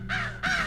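A crow caws twice in quick succession, harsh and loud, close by over a low steady background hum.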